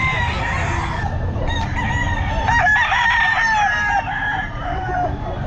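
Gamefowl roosters, including bullstags, crow repeatedly at a busy Bocaue pet market, several calls overlapping amid clucking and a steady crowd murmur.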